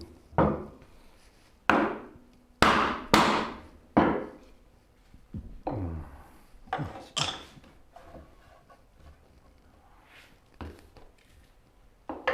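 A wooden mallet strikes a chisel while paring wood for a rolling cabinet base, giving a run of sharp, close knocks in uneven bursts, strongest early and then lighter taps spaced apart.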